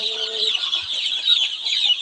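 Dense, continuous high-pitched peeping from about 350 native chicks crowded together in a brooder, steady and fairly close, with no other sounds.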